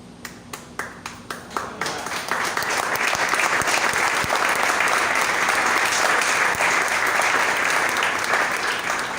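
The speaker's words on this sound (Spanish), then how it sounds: "Por ese aplauso me debe cada uno un chocolate." A church congregation at a Spanish-language sermon on the Holy Spirit breaks into applause: a few separate claps at first, then a full, steady round of clapping that continues loudly to the end.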